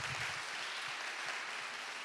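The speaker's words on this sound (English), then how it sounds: "Give them another round of applause for these fantastic women" Applause for panel speakers at a leadership and negotiation panel session, a dense, even clapping from an audience held for about two seconds.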